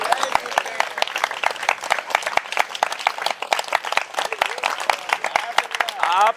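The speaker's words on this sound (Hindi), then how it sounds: "ताली बजाना बेटा, बजा ताली।" An audience at a spiritual discourse claps in a quick, uneven patter of sharp hand claps that runs the whole way through. Scattered voices mix in beneath the clapping.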